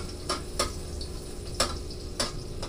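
Onion sautés in a pan as the base for sinigang na bangus sa miso, a steady soft sizzle close by, broken by four or five sharp clinks of a utensil against the pan at uneven intervals.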